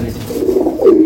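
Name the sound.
pigeons cooing in a pigeon collection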